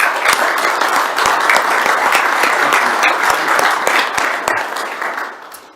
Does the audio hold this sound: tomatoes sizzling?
no